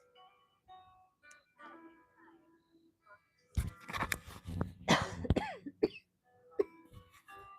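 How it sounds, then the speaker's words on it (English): Harsh, bursty coughing and hacking from a dry throat, with a throat clear among them. After a quiet stretch, a cluster of loud close coughs breaks out, followed by a few scattered ones. "Welcome to my weird stream of coughing and hacking because I have a dry throat."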